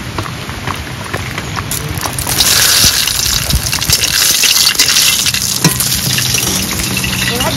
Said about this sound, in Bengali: একটু তেল দিয়ে দেবো, ফোড়নে দেবো রাঁধুনি আর তেজপাতা।